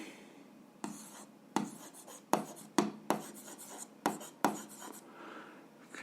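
A pen scratches out an algebra solution in short, rhythmic strokes, about seven distinct bursts separated by brief pauses, close and clear with no talk.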